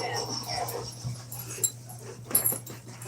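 A dog whimpers and whines softly indoors, short breathy cries spread across a few seconds amid a low steady hum, with small scuffling noises and a couple of louder yips near the middle and end.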